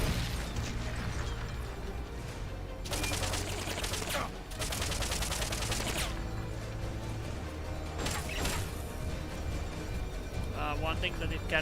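M60 machine gun firing in Metal Gear Solid Peace Walker, bursts of rapid automatic fire breaking out in several bright rattling volleys amid clanking mechanical noise, fairly loud, with a voice talking in places.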